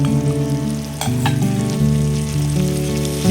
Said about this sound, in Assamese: এতিয়া ৰেডি কৰি থোৱা মাংসখিনি আমি তেলত